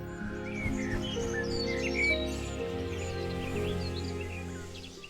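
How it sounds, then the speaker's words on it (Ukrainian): Birds chirp in the distance among hills and fields, a scatter of small tweets and calls over a steady low musical background. "Удалині серед пагорбів і полів лунав щебет."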